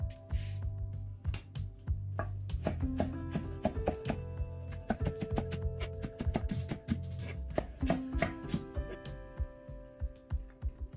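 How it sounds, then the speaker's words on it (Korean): Green onion minced with a knife on a cutting board: rapid, crisp chopping taps in a fast, uneven rhythm, close by, over soft background music. "대파 한 뼘을 다져주세요"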